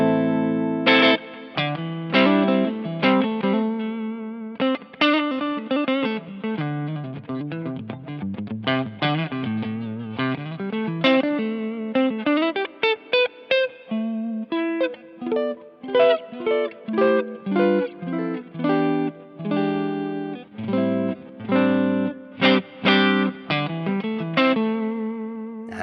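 Electric guitar (James Tyler Studio Elite) on the neck pickup picks a busy run of notes and chords in a clear clean tone with a touch of effect, continuous and up close, no talking.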